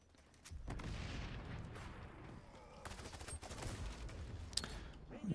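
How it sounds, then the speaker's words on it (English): Rapid gunfire in a video game is followed by a deep grenade explosion and its rumbling aftermath, with more shots rattling nearby. "Oh, that's a grenade."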